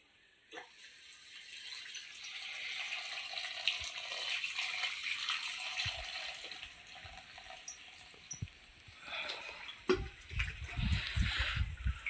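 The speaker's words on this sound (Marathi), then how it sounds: "आता आपली शेगल्याची भाजी साफ करून झालेली आहे आणि आता आपण ती धुवून घेऊया" Drumstick (moringa) leaves being washed in water, with a steady wash of splashing and running water that builds partway through, then lower sloshing and rattling handling noises near the end.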